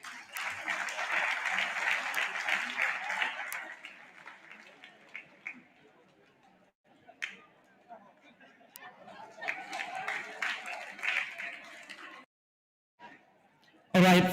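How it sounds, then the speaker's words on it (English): An audience applauds presidential debate candidates during their photo session, a long spell of broad clapping that fades, pauses, then returns with crowd chatter and some speech in the room. "You may applaud them as they take their pictures well."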